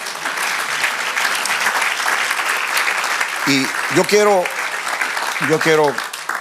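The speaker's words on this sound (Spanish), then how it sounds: "Denle un aplauso al Señor" A church congregation claps in praise to the Lord, a dense continuous wash of applause while someone speaks over it and sings briefly.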